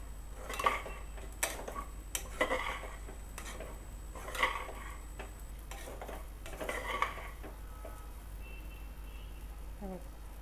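Rice being sautéed in a pan for jeera rice, with a spoon scraping and clinking against the pan in a few scattered strokes, faint and close under a low background hum.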